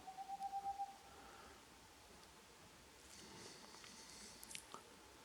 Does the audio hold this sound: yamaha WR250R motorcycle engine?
no